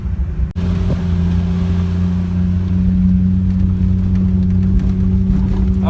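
A truck engine drones with a deep, steady rumble throughout as the truck drives up a driveway, close by and loud, briefly shifting in tone as it keeps moving.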